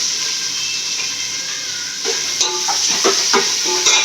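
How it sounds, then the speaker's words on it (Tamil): Onions and green chillies sautéing in a pan, a steady hissing sizzle with stirring scrapes and clinks that grow busier toward the end. "வதங்கட்டும் வெங்காயம்"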